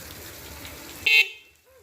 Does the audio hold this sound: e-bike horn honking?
yes